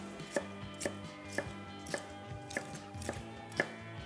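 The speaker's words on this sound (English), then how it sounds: "And I like to just cut these in strips." A knife slices bell peppers into strips on a cutting board for Haitian pikliz, seven crisp, evenly spaced chops about half a second apart, close and fairly quiet, with no voices.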